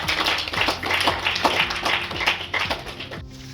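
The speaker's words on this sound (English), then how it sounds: "Can you clap for yourself?" An audience at a debate on artificial intelligence claps in a brisk, fairly close burst of applause that lasts a few seconds and then begins to thin out.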